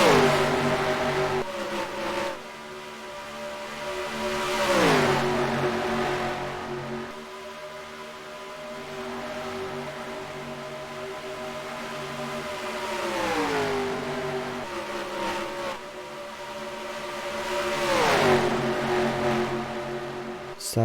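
Cartoon race cars roar around the track in the Disney Cars NR2003 racing game, engine notes rising and falling as cars sweep past again and again over a constant, loud motor drone.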